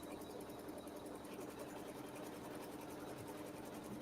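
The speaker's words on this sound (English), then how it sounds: "I have placed thread in the needle that matches it, and we're going to stitch a seam now." A sewing machine stitches a quilt seam with a steady, rapid mechanical whir, running evenly and fairly quietly throughout without any voices.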